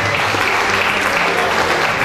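An audience at a formal ceremony applauds, dense, steady clapping that fills the room evenly and loudly throughout.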